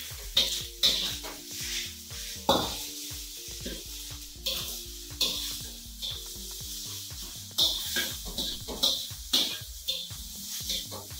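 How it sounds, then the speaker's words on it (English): Egg fried rice made from leftovers is stirred in a big wok, with a steady frying sizzle under repeated sharp scrapes and clanks of the utensil against the metal, close and uneven in rhythm. "Next step is to stir it to make sure it's mixed properly"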